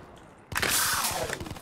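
Automatic gunfire rattles in Call of Duty Black Ops III Zombies, a loud sustained burst that breaks in suddenly after a quiet moment and keeps going to the end.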